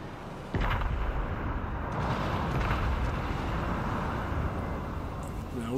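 Main guns of the Bismarck battleship firing in World of Warships Legends: a sudden heavy boom followed by a long rumbling roar, with a few fainter thumps after.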